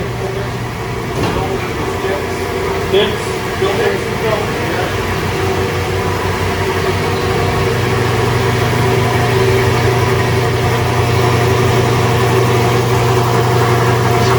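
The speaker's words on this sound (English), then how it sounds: "Compressor's quiet." A quiet air compressor hums steadily inside a Volkswagen garage, a low continuous drone under occasional speech from people nearby.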